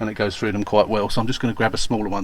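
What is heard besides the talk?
No everyday noise stands out behind the speech.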